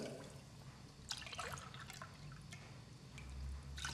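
Water poured from a 220 ml glass into sugar in a pot for a semolina almond cake syrup, a soft trickling splash in a few short pours, quiet and close with no voices.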